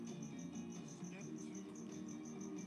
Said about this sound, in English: I've got crickets that chirp